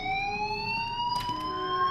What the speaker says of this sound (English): which happened to be in a bathroom with a fire alarm